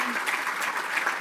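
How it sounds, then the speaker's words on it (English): Awards ceremony audience applauding the finalists, a steady wash of many hands clapping in a large hall, loud and continuous with faint voices mixed in. "Now you can clap."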